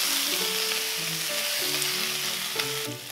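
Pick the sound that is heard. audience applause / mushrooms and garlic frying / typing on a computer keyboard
mushrooms and garlic frying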